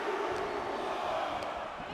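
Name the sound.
arena crowd counting down in WWE 2K24 video game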